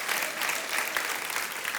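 Audience applause in a church, a short stretch of steady clapping from a gathered crowd at moderate level, continuous throughout.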